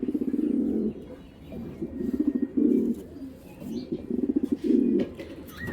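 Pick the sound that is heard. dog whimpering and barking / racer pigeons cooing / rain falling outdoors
racer pigeons cooing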